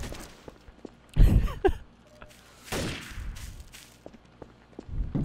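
Gunfire in Garry's Mod Trouble in Terrorist Town: a burst of sharp shots, a pause, then another volley and a few scattered cracks, with footsteps and faint game noise between.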